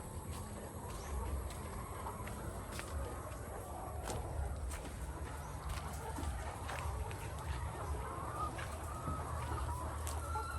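Chickens on a small farm cluck softly and intermittently while being fed, a quiet scatter of short clucks over low background noise, with faint voices nearby.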